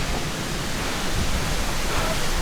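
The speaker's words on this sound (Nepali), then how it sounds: "हामी पुगेको छौँ झरनामा" Okhreni waterfall rushing after rain, a loud, dense, continuous roar of falling water heard up close with no pauses.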